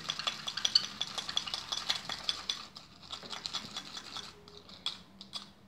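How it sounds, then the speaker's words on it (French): A spoon stirs a baking soda and lemon mixture in a small bowl, making a rapid series of light scraping clicks and taps, close and quiet, thinning into scattered strokes toward the end. "Et vous continuez de mélanger votre bicarbonate."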